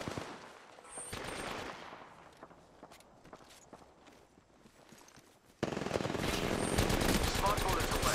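Gunfire in the video game Apex Legends, quick bursts of rapid shots and footstep clatter that fade, then a loud dense volley of automatic fire for the final seconds.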